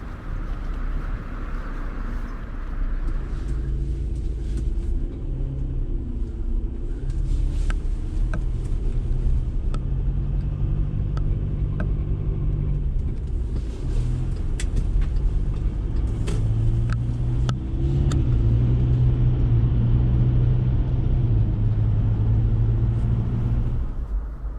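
Mazda MX-5 driving on Scottish roads, heard from inside as a steady low engine drone and road rumble that swells and eases with speed, with faint clicks and knocks scattered through the cabin noise.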